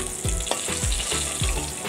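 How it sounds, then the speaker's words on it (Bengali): Large katla fish pieces fry in hot oil with a steady sizzle, broken by several repeated low scraping or stirring strokes at a quick, uneven rhythm, close and clear with no talking. "দুটো সাইড আমরা খুব বেশি কড়া করে ভাজবো না, হালকা মিডিয়াম করে ভাজবো।"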